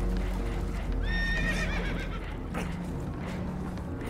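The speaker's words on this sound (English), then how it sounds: "Horses are spooked" Spooked horses in the Red Dead Redemption 2 video game whinny in a burst of shrill, wavering neighs over steady low rumble, with faint hoof clip-clop and background noise continuing after.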